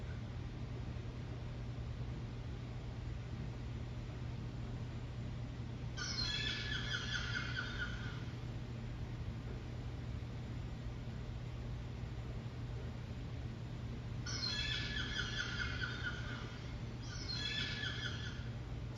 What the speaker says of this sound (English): A seagull is a type of bird, and that's the sound it makes.